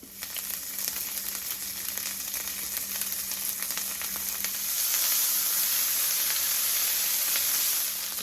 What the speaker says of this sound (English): So we're doing a little bit of butter, some diced garlic, some puree ginger,